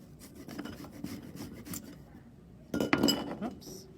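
A woody root is grated on a rasp grater in close, rhythmic scraping strokes, followed by a louder burst of clinking and tapping against the metal; a voice talks over parts of it.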